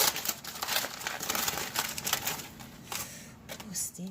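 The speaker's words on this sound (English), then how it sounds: "let's take that foil off" Aluminum foil peeled off a baked ham, a continuous close crinkling and rustling with bursts throughout, a voice faintly heard underneath.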